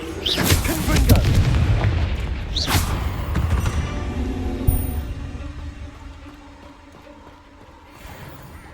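In Hogwarts Legacy, the Confringo blasting spell goes off as loud, booming explosive bursts early on, then settles into rumbling debris and a fading hiss.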